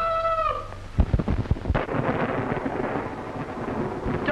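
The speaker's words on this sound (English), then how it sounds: "Storm's just as bad as ever, isn't it? Worse." Thunder booms and crackles through a steady roar of heavy rain during a nighttime storm at an isolated old house, the rumbling peaking early and then rolling on beneath the downpour.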